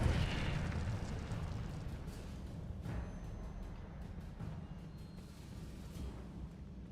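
An Incendio fire spell bursts in Hogwarts Legacy with a soft, rumbling whoosh that swells at the start and then fades slowly into a low roar, fairly faint and without speech.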